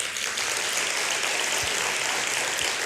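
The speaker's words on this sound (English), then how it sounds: "And again, an applause for him." Audience applause for a Dutch embassy ambassador at a presentation, a soft, distant, steady wash of clapping from the crowd, continuous and without speech.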